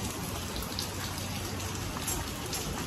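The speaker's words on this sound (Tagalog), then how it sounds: "umuulan." Rain falls steadily outdoors, a soft, constant patter and hiss at low volume with no voices.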